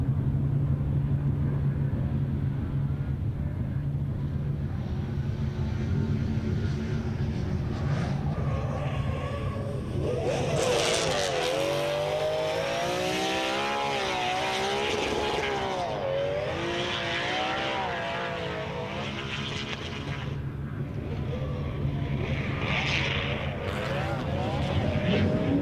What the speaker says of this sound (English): let you listen to this thing sing, because it's amazing sounding with the NA engine underneath the bonnet